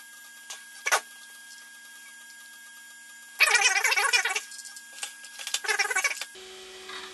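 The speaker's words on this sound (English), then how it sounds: "Hard drive sounds lovely. Just listen to that." An old Mac SE/30 hard drive whirs quietly, then breaks into two bursts of rapid mechanical chattering and clicking as it reads, with a steady hum beneath.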